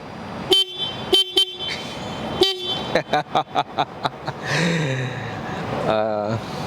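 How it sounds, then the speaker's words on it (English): A Yamaha MT-09 motorcycle horn sounds in several short toots, some single and some in quick bursts, loud and close, followed by a few clicks and a brief rising whine. "Horn check for the Yamaha MT-09."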